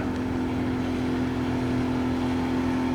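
A 1987 40 hp Johnson outboard motor running steadily below full throttle, a constant droning hum with a strong steady tone and rough low rumble, close and even throughout, no talking.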